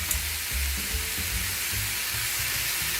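A pot of Jamaican rice, peas and oxtail steams and sizzles on the stove, giving a steady close hiss with a low bubbling rumble underneath and no talking.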